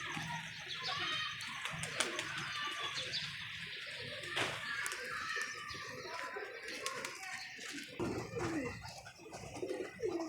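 Pigeons, a male and a female, coo repeatedly close by in soft rolling calls, mixed with chirps, wing flutters and background noise, with someone talking intermittently over them.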